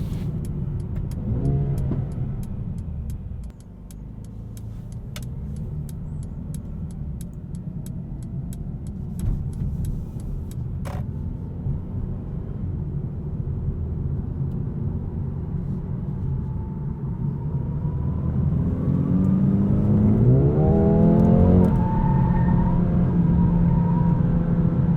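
Mercedes-AMG A35 engine and exhaust heard from inside while driving, a steady low rumble that swells as the car accelerates, with blowing, fluttering sounds as it lets off.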